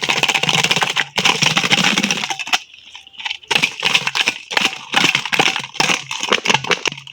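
Ice is added to the water of a small home pool, giving close, rapid clattering and crunching, with a brief pause partway through.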